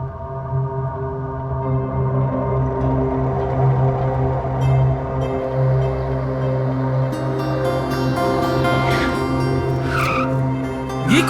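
A car skids with its tires squealing, a drawn-out, wavering screech with ringing tonal overtones that lasts for many seconds and rises into sharper squeals toward the end.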